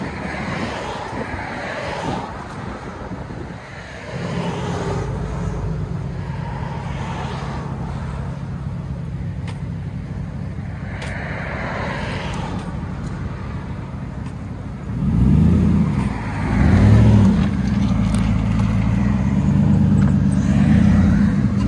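Chevy Tahoe 5.3L V8 running straight pipes with no resonator, a steady loud low exhaust drone throughout that swells into a deeper, rougher rumble near the end, as if revved, with no talking.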